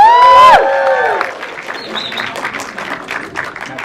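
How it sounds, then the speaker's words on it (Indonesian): Applause and some cheering rise from the audience at a film press conference, following a loud sung or musical tone at the start, then settling into steady, moderate clapping from a crowd. "Apakah sudah siap untuk memberikan tepuk tangan juga untuk produser kita Tia Hasibuan"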